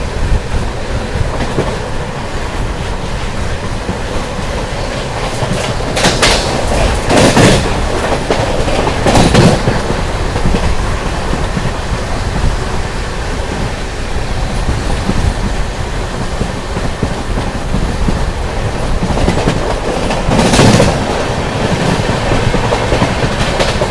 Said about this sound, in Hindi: चलिए दोस्तों अपनी तमिलनाडु एक्सप्रेस स्किप करने जा रही है आमला जंक्शन